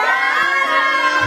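Cheering from a crowd at a quinceañera with a youth mariachi: a loud, sustained wall of voices singing and shouting together, dense and continuous across the moment, close and full.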